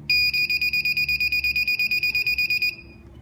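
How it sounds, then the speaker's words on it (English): A Sherlo Tronics receiver gives a rapid run of about twenty identical high electronic beeps after a remote code is erased, loud and close, stopping abruptly to quiet. "The receiver will give you that recognition beep to say that it has erased the code that was just transmitted."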